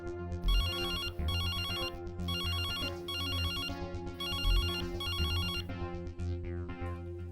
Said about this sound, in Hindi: फोन करके पूछता हूँ, हो सकता है संजना ही फोन उठा ले